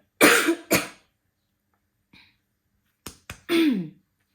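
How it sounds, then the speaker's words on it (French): A woman coughs close to the mic: two sharp coughs, a pause with a faint small sound, then a quick pair of short coughs and a final longer throaty cough. "On m'avait prédit qu'aujourd'hui je tousserais beaucoup"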